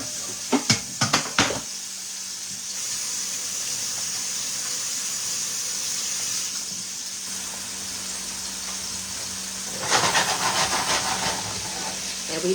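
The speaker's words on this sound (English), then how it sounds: "I hear that sizzle? That's what you want to hear" Meat sizzles in a big pan, a steady hiss throughout with a few sharp clatters early on and a louder burst of crackling near the end.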